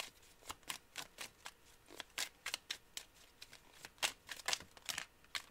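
Oracle cards are shuffled and drawn by hand in a quiet room: a quick run of soft, crisp riffling flicks and slaps, close and fairly faint, repeating irregularly with no talk.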